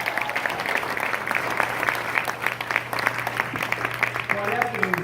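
A crowd at a campaign speech by a candidate for governor applauds steadily and densely throughout, with scattered cheers mixed into the continuous clapping.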